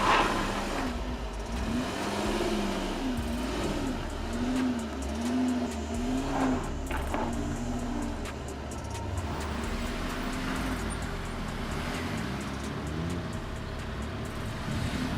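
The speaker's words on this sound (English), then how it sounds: "Once again, Mercedes drives only on 3 wheels, but it keeps climbing up confidently." A Mercedes ML SUV crawls up an off-road test obstacle on three wheels, its engine rising and falling in steady revving, with tires scrabbling over a low background rumble.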